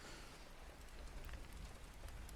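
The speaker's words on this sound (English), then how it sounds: "you did manage to land just before the rain got really bad and the thunder got going" Steady rain falls during a thunderstorm as a soft, even hiss, heard faintly throughout with no voices and no distinct thunder.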